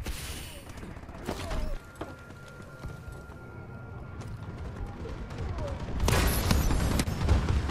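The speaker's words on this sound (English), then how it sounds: "Friendly bombing run clearing the way." A friendly bombing run in a shooter video game: scattered sharp blasts and mechanical clatter build into a louder rumbling barrage of explosions near the end, with a voice talking over it.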